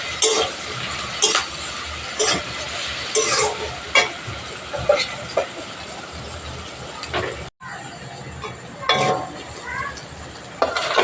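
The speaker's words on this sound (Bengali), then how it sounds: "আমার পেঁয়াজটা ভালোভাবে ভেজে নিয়েছি।" Onions frying with a little salt in a pan, a steady sizzle broken by repeated scraping stirs and clinks of a utensil against the metal, with a brief cut partway through.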